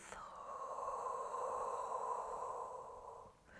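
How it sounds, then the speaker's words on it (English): One long, steady breath drawn slowly through the nose in a Pilates breathing exercise, a soft hissing rush held for several seconds at close range, faint and unaccompanied by speech. "And again, deep breath in. Exhale through the mouth."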